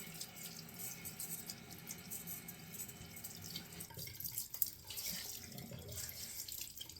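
A bathroom tap runs steadily as a rag is wet under it during a wet shave, a soft, close hiss of flowing water with small splashy changes as the cloth moves through the stream.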